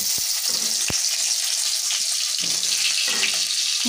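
Potatoes and eggplant coated with turmeric and salt frying over high heat in oil left from frying fish, a dense continuous hiss with a few sharp crackles and pops.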